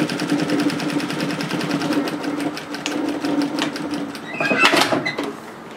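A sewing machine stitches a narrow edge seam to close the opening on a reversible ruched drop-shoulder pullover sweater, a fast, steady mechanical whirring chatter up close, with a few clicks and a short rattle near the end.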